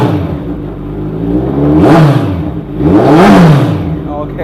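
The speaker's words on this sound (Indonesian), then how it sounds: "itu dia tadi teman-teman suara dari Kawasaki Z14R" A Kawasaki Z14R motorcycle engine is revved twice in a garage, each loud rising blip climbing in pitch, then falling back to a steady idle between them.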